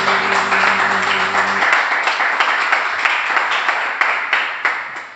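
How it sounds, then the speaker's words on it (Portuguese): Congregation at a church men's congress applauding the Lord, loud sustained clapping from a crowd. A held organ or keyboard chord fades out early, then sharper individual claps stand out as the applause thins. "Você pode aplaudir o Senhor"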